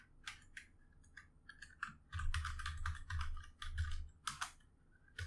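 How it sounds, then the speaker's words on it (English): Computer keyboard being typed on in irregular bursts of crisp key clicks, some rapid runs and some single taps, quiet and close with no talking. "oh, I don't like typing, man."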